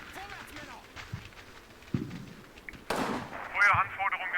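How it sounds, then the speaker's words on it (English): Artillery shells striking in the wargame Combat Mission: a few scattered thuds and sharp impacts, the loudest crashing in near the end, over a low background with muffled voices. "that's my artillery being called in"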